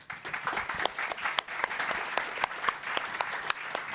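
Conference audience applause at a blockchain industry event, steady clapping of a moderate crowd with scattered sharper claps, continuous for several seconds at moderate level.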